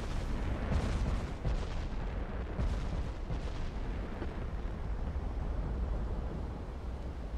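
Battleship guns fire in the naval video game Ultimate Admiral: Dreadnoughts, a series of heavy, rumbling booms rolling over one another against a dense low roar, with no voices.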